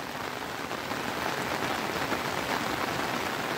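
Heavy May downpour over a Konkan village, a constant broadband rush of rain on surfaces, close and unbroken throughout, with no speech.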